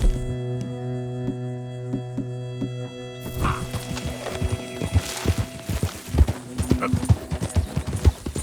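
Horse hooves clip-clop in a steady, close rhythm in the Western video game Red Dead Redemption 2, following a sustained musical tone at the start, with a faint voice briefly underneath.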